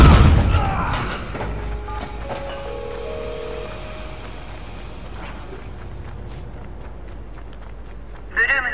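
A loud explosion in the PS4 video game Watch Dogs: Bad Blood bursts out at the start, then fades into a long rumbling decay with lingering game tones.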